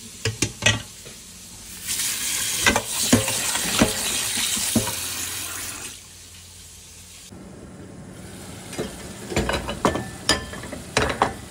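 Spice paste with satkora sautéing in a pan, a close crackling sizzle with scraping stirs, easing off briefly midway before clattering stirs return.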